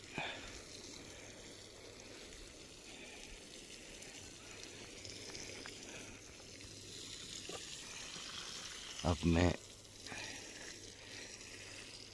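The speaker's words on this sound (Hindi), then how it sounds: "पानी बंद करवाऊँगा।" Irrigation water flows across a farm field in a faint, steady gush that continues throughout, with a brief spoken phrase close by near the end.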